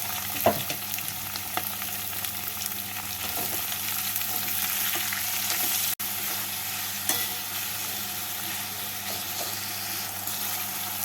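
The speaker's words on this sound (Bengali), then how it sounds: "এবার এর মধ্যে কুচানো পেঁয়াজগুলোকে দিয়ে লাল করে ভেজে নেবো" Steady, close sizzling of chopped onions frying in hot oil until browned, with a few faint stirring scrapes and clicks; no voices.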